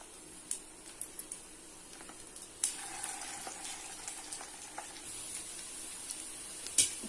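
Vegetable rice bonda batter fries in hot oil with a quiet, steady sizzle and scattered small pops and crackles, close by and with no voices.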